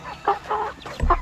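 Chickens and young chicks cluck in a few short, close bursts with brief pauses between them, heard alone without talk.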